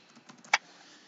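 A few light keystrokes on a computer keyboard, faint soft taps ending in one sharper, louder click, brief and close with no talk.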